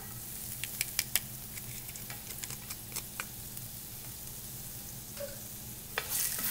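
Garlic frying in oil for a spinach and herb fettuccine sauce, with a steady soft hiss punctuated by sharp crackles and pops near the start and a louder sizzling burst at the end.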